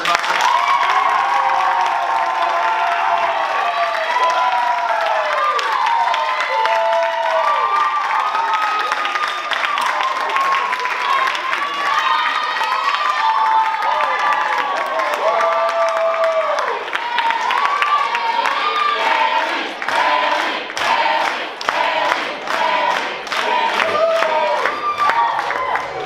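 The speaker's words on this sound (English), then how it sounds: "So please give a round of applause for my partner in crime, Haley Mowery, everybody." Sustained audience applause and cheering at a stand-up comedy show, a dense wash of clapping with shouts and whoops running throughout, steady and fairly loud, turning into more distinct claps near the end.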